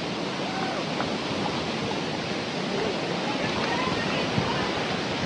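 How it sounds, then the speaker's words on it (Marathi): Steady roar of a deep, dangerous waterfall heard from nearby, a dense continuous rush of falling water with no breaks, drowning out quieter sounds. "हा धबधबा असा खाली आहे, डेंजर आहे, खूप खोल आहे."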